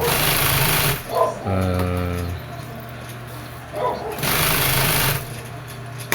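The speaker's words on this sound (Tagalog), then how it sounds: "Yan po yung aking gawain araw-araw mga idol. Yan ang pananahi." Sewing machine running through fabric at a home tailoring workbench, a steady mechanical whirr in bursts of stitching near the mic, with a dog barking and whimpering briefly between runs.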